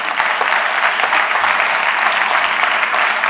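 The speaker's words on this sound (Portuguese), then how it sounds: "Pode aplaudir o nome de Jesus, irmão." Sustained applause from a church congregation during a worship service, a dense, steady wash of clapping hands filling the room at even loudness with no pause, and no voices rising above it.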